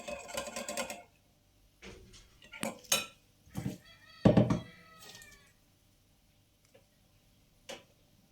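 Semolina batter for revani is stirred in a bowl, a spoon clinking and scraping against the sides in several short bursts with quiet gaps between them, close and moderately loud.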